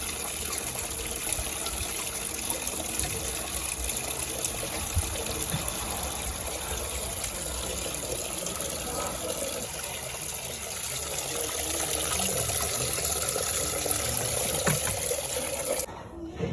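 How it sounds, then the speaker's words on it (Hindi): Rice being washed with water gives a continuous, moderately quiet wash of running and sloshing water that runs for over fifteen seconds with no clear speech. "चावल धो रही हूँ भर के।"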